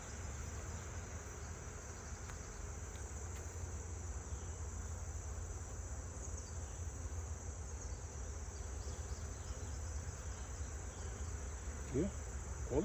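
Honey bees buzzing in an open hive during a routine inspection, a steady low hum that stays faint and continuous throughout.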